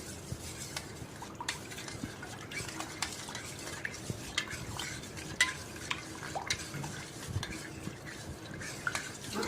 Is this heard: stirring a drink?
yes